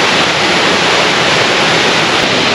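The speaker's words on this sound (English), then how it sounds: "Here's another nice little waterfall" A small waterfall beside a hiking trail on the Tumalo Falls loop near Bend, Oregon, a loud, dense, continuous rush of falling water close to the microphone with nothing else audible.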